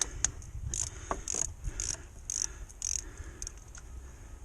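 A ratchet cranks back the tensioner pulley on a Mercedes E430 (W210, M113 V8) in short bursts of sharp, close metallic clicks, about seven quick strokes with small pauses between them.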